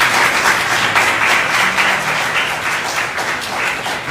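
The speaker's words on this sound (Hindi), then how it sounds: "वो यीशु के लिए जोरदार ताली बजाएंगे।" A church congregation applauds loudly, a dense, sustained wash of clapping that stays strong for several seconds with no speech over it.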